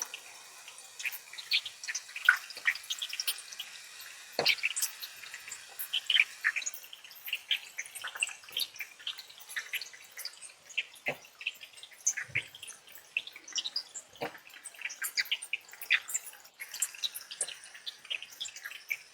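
Surmai fish fillets frying in a pan over a medium flame, giving a steady scatter of sharp crackles and small pops, close and fairly quiet, with no talking.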